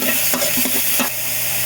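Food frying in oil in a home kitchen pan, a steady sizzle with a few soft stirring scrapes near the start, close and fairly loud, no voices.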